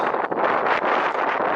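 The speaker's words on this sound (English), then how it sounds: "quite cold and windy up here" Strong, cold wind buffeting the microphone on high ground in Cumbria, a continuous roaring rush with gusty swells and no other clear sounds.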